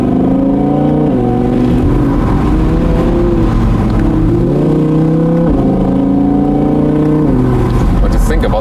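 A 2017 Audi R8 Spyder with a 540 hp V10 and sport exhaust revs loudly and continuously. The engine tone climbs and dips with each gear change, with faint road and wind noise beneath.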